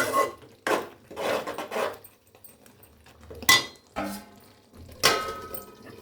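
Metal spoons and utensils scraping and clanking against pots and plates while shrimp gongura curry and rice are served, several distinct bursts of clatter separated by short pauses, close and fairly loud.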